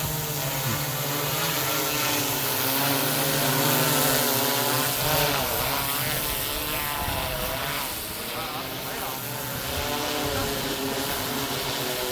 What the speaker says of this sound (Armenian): Սա էլ բանի դրոնն է, չէ, 911-ի, փրկարար ծառայության